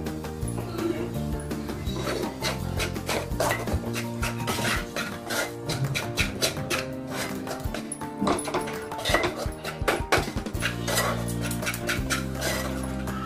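A sweet rice flour mixture is stirred in a pan, with steady scraping and rubbing of a spoon against metal and soft knocks, close up, under occasional background sound.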